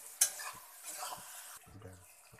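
A bay leaf is stirred into frying onions, a quiet sizzle with a sharp utensil clink near the start and a few soft scrapes and taps against the pan.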